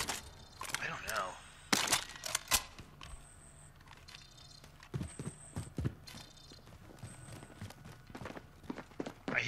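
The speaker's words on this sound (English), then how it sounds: "I hear running in my building." Running footsteps thud inside a building in the Modern Warfare video game, a series of uneven, hard impacts mixed with scattered mechanical clanks and game effects, fairly close and moderately loud.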